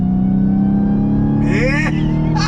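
A 2021 Dodge Challenger Hellcat Redeye accelerates on throttle from inside the cabin, a steady engine drone rising in pitch under a short burst of talk.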